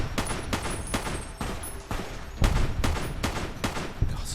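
Loud, rapid bursts of gunfire in Fallout: New Vegas at Jacobstown, with shots cracking in quick succession and a few heavier blasts, with no talking.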